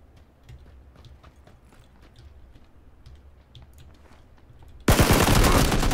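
Gunfire in the video game PlayerUnknown's Battlegrounds: a sudden loud burst of shots near the end, after several seconds of quiet footsteps and low rumble.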